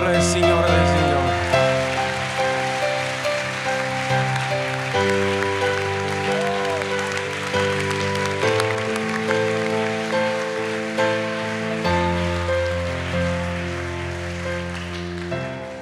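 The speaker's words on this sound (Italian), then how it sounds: "Fate un applauso al Re del Re, Signore del Signore." A church congregation applauds during a Sunday service, steady clapping from a crowd mixed under sustained instrumental music with sustained chords, full and fairly loud throughout.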